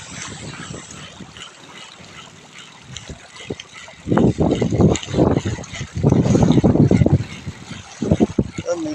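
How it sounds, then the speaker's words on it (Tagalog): Strong wind and breaking waves at a shoreline during ultra-light shore casting, a steady rushing background that swells into louder surging water bursts midway, with someone talking over it. "Gawa nung malalakas yung alon. Ang lakas ng hangin."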